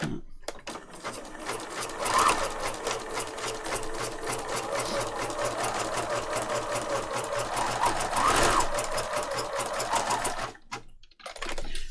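A sewing machine stitching a batch of craft tags with a longer stitch length runs in a steady, fast mechanical rattle for about ten seconds, close and fairly loud, then stops near the end with no talking.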